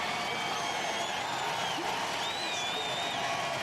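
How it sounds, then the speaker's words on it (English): A sellout stadium crowd at a Georgia versus South Carolina college football game roars in a steady, dense wash of cheering and whoops, with some whistles rising above it throughout. "It gets a rise out of the sellout crowd here."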